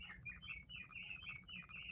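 A bird call chimes from a wall clock at midnight, a series of bright, repeated chirping phrases in quick succession. It sounds close and fairly clear over a low background rumble, with no talking.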